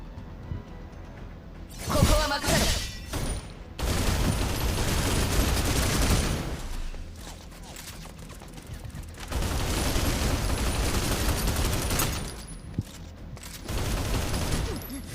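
Rapid gunfire bursts from the Snowbreak video game, loud, dense volleys lasting a couple of seconds each, with short quieter gaps between them and no voices.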